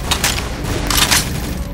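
Rapid bursts of gunfire in Left 4 Dead 2, loud, close and continuous across a short stretch of overlapping shots.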